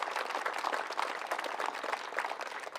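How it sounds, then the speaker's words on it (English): Crowd applause from an audience at the opening of a new city hall building in Amarillo, a steady dense wash of clapping that holds evenly throughout without any voices. "you guys give a round of applause if you would"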